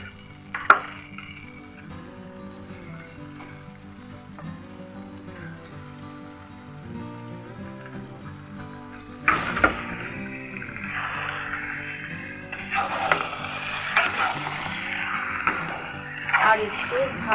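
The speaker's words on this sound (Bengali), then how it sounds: "আর একটু ভালো করে মাংসটা কষবো।" Chicken pieces are fried and stirred in spiced oil for kosha, a soft low sizzle at first that turns into louder scraping and splattering bursts in the second half, with a voice talking over it.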